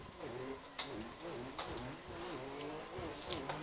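A race car engine in the Assetto Corsa racing game drones and buzzes with repeated rising and falling revs as throttle is worked, heard faintly and fairly evenly throughout.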